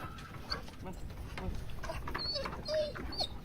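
A dog whimpers and whines faintly in an excited, restless way, with a few short high cries over a soft, noisy outdoor background; a person speaks briefly.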